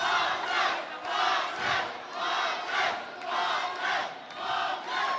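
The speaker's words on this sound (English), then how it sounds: "Crowd with chants of Montez, Montez." A fight-event crowd chants a fighter's name, Montez, in steady rhythmic waves, with about six swells of many voices repeating across the moments, loud and filling the hall.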